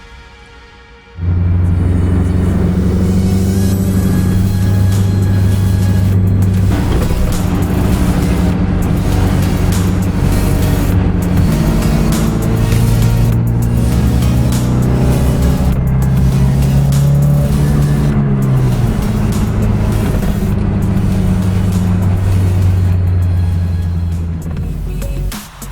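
A tuned, supercharged Miata with an L62 Ecotec engine swap drives steadily, its engine droning loud and close with rising and falling revs through gear changes, running continuously for about 25 seconds with no talk.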